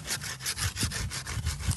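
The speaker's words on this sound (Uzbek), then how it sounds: "Buni kanal to'lib qoladi, endi arra solib turish kerak." A hand saw cuts into a walnut tree being prepared for grafting in a village orchard, with a close, steady back-and-forth rhythm of about eight rasping strokes and no talking.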